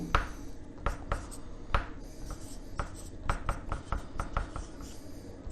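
Chalk or marker writing on a board during a maths lesson on height and distance, a run of short scratchy strokes and taps in an irregular rhythm, close and fairly quiet, with no talk.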